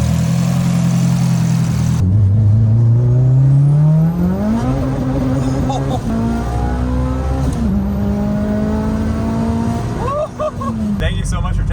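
A 600 bhp Mitsubishi Lancer Evo 7 accelerates hard on a track, its engine note rising steadily through the gears and heard from inside the car, with brief shift breaks, a continuous roar and a voice speaking over it.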